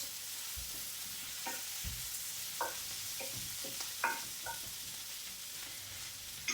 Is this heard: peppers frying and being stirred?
yes